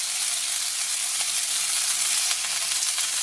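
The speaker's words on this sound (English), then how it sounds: "Now what we're doing is we're just searing it and then put it on the side for about 7 to 10 seconds" Eye fillet steak sears in a hot pan with a constant, dense, hissing sizzle throughout, close and moderately loud.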